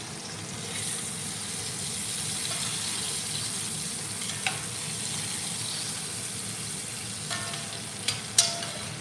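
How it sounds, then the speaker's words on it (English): A beef chuck roast sears in a hot pan with a steady close sizzle and crackle throughout, and a few sharp clinks near the end. "3 more sides to sear."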